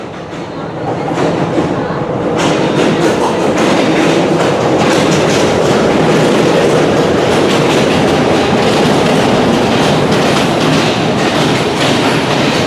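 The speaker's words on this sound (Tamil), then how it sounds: "இதுதான் மொட்டை மாடி ட்ரெயின்." An open-top tourist train in Sri Lanka rumbles past close by with steady rolling clatter, a dense continuous roar filling the whole stretch.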